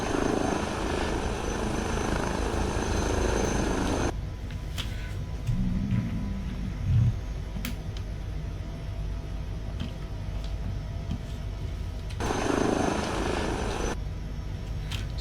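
An H160 model helicopter flying nearby, a steady whirring rotor and motor drone that drops in level for a stretch and then returns loud; no one speaks.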